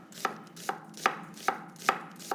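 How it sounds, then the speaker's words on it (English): A knife chops half a red onion on a board in six crisp, evenly spaced strokes, close and clear with nothing else heard. "So we're just going to cut half a red onion"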